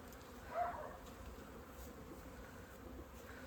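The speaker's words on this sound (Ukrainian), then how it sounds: "6 лютого і бачимо, полетіли наші бджілки. Бачимо, який обліт. Е, Літають." Honey bees fly out of their hives on a calm, mild spring day at an apiary, a soft steady insect hum with a brief nearer buzz passing early on.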